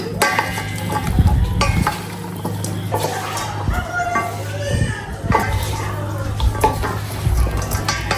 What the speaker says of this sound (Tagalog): Ayan, haluin na po natin.